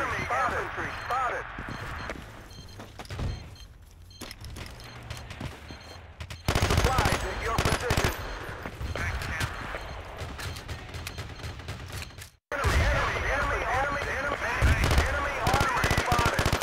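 Dense multiplayer gunfire from Battlefield 2 crackles in rapid automatic bursts and scattered single shots, close and loud, continuing through most of the stretch while a player talks over it.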